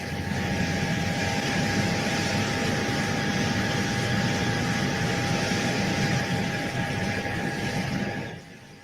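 A steady, loud aircraft engine drone that sounds more like a fixed-wing plane than a helicopter holds evenly throughout, with a constant whine on top, then eases off slightly at the very end.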